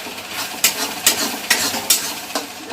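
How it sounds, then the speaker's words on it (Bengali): Onion frying red in a pan and being stirred with a utensil, soft sizzle underneath and five evenly spaced scraping strokes at a steady rhythm, close by, with no one talking. "পেঁয়াজটা লাল করে ভাজছে, কষানো চলছে এখন।"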